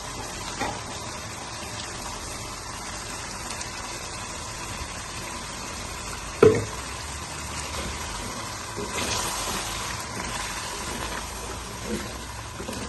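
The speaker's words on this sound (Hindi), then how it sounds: "मैं इसमें ये ग्रीन ग्रेवी जो है वो मैं इसमें ऐड कर रही हूँ।" Green gravy poured into partly cooked chicken in a pan, a wet sizzling and bubbling hiss running steadily with a brief soft splat midway.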